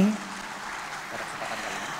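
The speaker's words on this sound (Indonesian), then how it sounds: "Sekali lagi kita beri tepuk tangan yang paling meriah untuk acara kita di pagi hari ini." A crowd claps at the morning launch event for a bank's digital banking service, a broad, even wash of applause that holds steady, with a brief voice at the very start.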